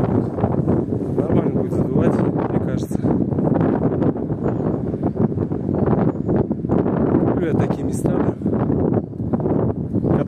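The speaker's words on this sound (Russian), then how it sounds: "это ветер и красота" Wind blows hard at the Stylos cave monastery in Turkey, buffeting the microphone with a loud, continuous rushing roar that barely lets up from start to finish.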